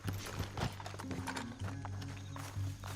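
Horse hooves clip-clopping in Red Dead Redemption 2, an irregular trot of hoofbeats close by, with a brief whinny and faint background ambience.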